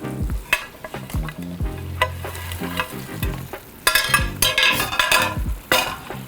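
Beef being stirred into a thick Mongolian beef sauce in a hot pan, with loud, close sizzling and frying under repeated scraping, clacking utensil strokes, and no one speaking.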